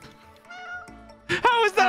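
A cartoonish cat meows in the video game It Takes Two, a drawn-out tonal call followed by louder, brighter meows near the end, with overlapping voices.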